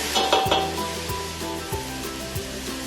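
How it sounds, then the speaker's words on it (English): Vegetables for butternut squash soup sizzle loudly in a hot pan as vegetable stock is poured in, a bright hissing burst with repeated scraping stirs against the pan bottom. "See that sizzle? Yeah, that's what we're looking for right there."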